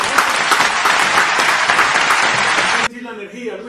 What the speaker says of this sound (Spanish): esto merece otro aplauso